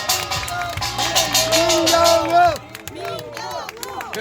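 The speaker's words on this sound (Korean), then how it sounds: "감사합니다, 여러분. 박수!" A crowd at a Korean street political rally applauds with dense clapping and cheering, loud and close, while voices call out over the noise.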